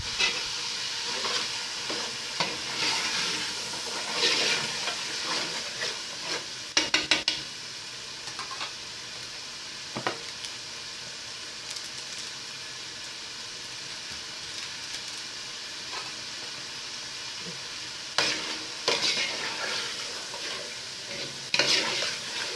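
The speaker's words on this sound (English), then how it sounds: "You have to fry it for just a little minute because the stew is already fried before." Leftover stew frying in a pot as the base for jollof rice, a steady close sizzle with occasional stirring scrapes and louder bursts of spattering, with no voices.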